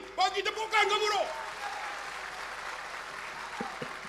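Applause from a crowd swells and rolls on steadily after a man's brief speech at a New Year's Eve religious gathering in Shah Alam, sustained clapping that fills the space.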